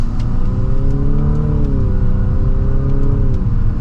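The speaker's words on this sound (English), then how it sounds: "You hear more of the engine under the acceleration than you do anything else." A 2024 Infiniti QX50 Autograph engine revs steadily upward under acceleration in sport mode, a loud continuous mid-pitched drone that rises in pitch, with no voices.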